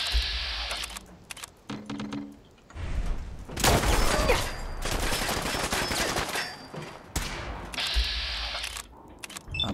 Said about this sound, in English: They're shooting at Ada, huh?